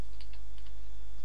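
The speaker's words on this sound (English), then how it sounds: "type in" Keystrokes on a computer keyboard, a short burst of several quick clicks typed at close range with no voices.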